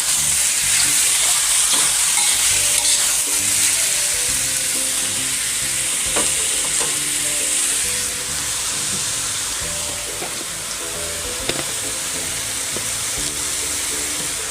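Mixed mushrooms stir-fry in a wok with oyster sauce, a loud continuous sizzle with scattered spatula scrapes and clicks, steady and close for the whole stretch, no talking.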